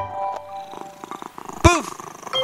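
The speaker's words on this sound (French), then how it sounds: "Dans le carton s'est caché un drôle de petit chaton." A kitten meows in a French children's action song, one clear rising-falling mew standing out over a soft musical backing with light tapping sounds.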